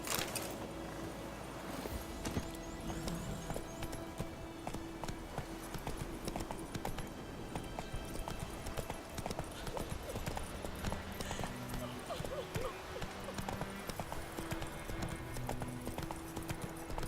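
Horse hooves clip-clop at a steady rapid pace in the video game The Witcher 3, continuous and fairly close, with game music and ambient sound underneath.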